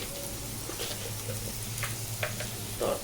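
Onions frying in a pan with a pinch of salt, giving a steady close sizzle with light stirring scrapes and no talking.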